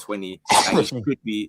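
A single sharp sneeze bursts out in the middle of a football conversation, loud and close, with someone talking just before and right after it.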